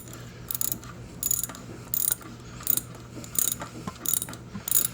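A ratchet wrench clicks while snugging transmission bolts on a 2004 Suzuki Forenza with a 2.0 L engine. About seven bursts of rapid clicking sound at a steady pace over a low hum.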